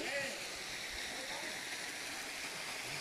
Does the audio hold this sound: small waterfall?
yes